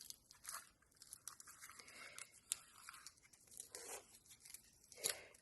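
A wrapped Christmas package from Action is torn open by hand, with soft, irregular ripping and crinkling of paper in close, quiet bursts and a couple of sharper snaps.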